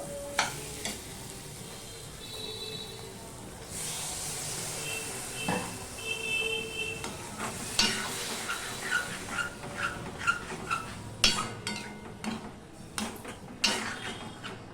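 Fried potatoes and a little water go into a simmering Bengali bele fish curry: steady sizzling and bubbling with scattered clinks and scrapes of a spoon against the pan, plus a few sharper knocks.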